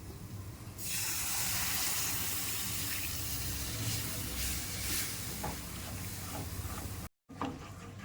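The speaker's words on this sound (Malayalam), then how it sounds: "ഇനി കുറച്ച് പാലായിട്ട് ഒഴിക്കാം." Milk is poured steadily into a pan of butter and flour for white sauce, a continuous close liquid rush lasting several seconds with a brief break near the end.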